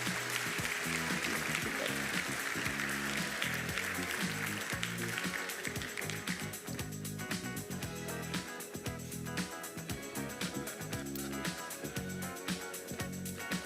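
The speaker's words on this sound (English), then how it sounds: "A huge round of applause," Audience applause for a panel discussion at Chrome Dev Summit 2019, a loud, steady wash of clapping from a large crowd that holds at an even level for the whole stretch, with music-like tonal bands running underneath.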